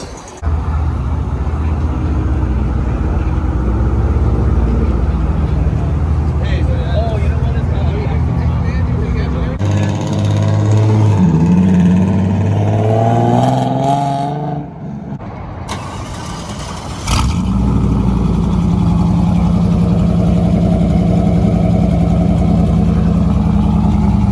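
A Honda Civic at a car meet by Tempe Town Lake revs hard, its engine pitch sweeping up and down loudly over a constant idle, then briefly dropping away before returning, while excited people talk nearby.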